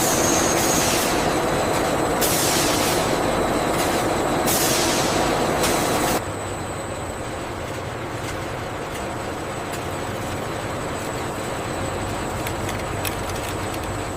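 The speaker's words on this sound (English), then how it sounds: "The winding system builds the carbon fiber package one precise layer at a time" Continuous machine drone of a carbon fiber winding system in a factory, steady broadband whir with intermittent louder bursts in the first half, then a quieter, even hum.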